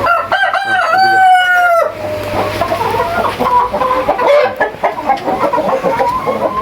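A rooster crows loudly and close by, followed by chickens clucking and cackling continuously on a poultry farm, with other birds calling in the background.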